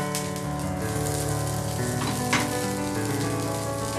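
Meatloaf fries in a pan, giving a steady, close crackling sizzle with a brief scrape partway through. No one talks.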